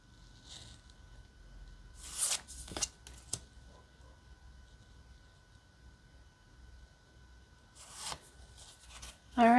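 A new tarot deck is shuffled in a few quiet, brief bursts of riffling card noise, close and soft, separated by near silence.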